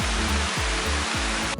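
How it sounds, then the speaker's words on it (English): Heavy rain pours down in a jungle near Phuket, Thailand, a loud, dense, steady hiss with low thumping pulses underneath, cutting off abruptly at the end. "It's pouring down rain here in the jungle right now."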